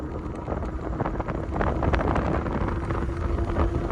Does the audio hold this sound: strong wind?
yes